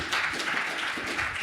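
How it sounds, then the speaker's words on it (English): Brief applause from a conference session audience, an even patter of many hands clapping for just over a second. "Give him a round of applause."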